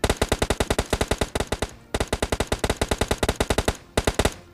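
Rapid bursts of gunfire in PUBG Mobile Lite, loud and close, with sustained automatic volleys broken by short pauses and a final burst near the end.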